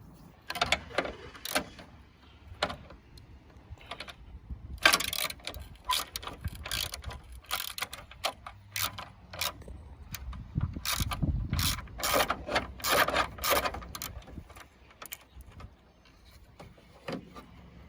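A ratchet with a 13mm socket loosening the horn bolt on a 1998-2002 Mercedes-Benz E320 W210, with rapid clicking bursts and pauses, some heavier clunks of metal, close and working without talk.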